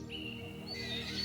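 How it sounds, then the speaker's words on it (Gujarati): Birds singing outdoors near Anand, Gujarat, with a thin whistled note followed by brighter overlapping chirps, steady and moderately close, with no voices. "સરસ મજાના પક્ષીઓ બોલે છે"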